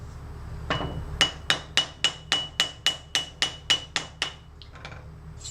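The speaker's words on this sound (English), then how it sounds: "I'll go one more time, all the way around, overlapping blows." Overlapping hammer blows on a tension fit container worked on a stump, about a dozen sharp metallic strikes in an even rhythm, close and loud, followed by a few lighter taps.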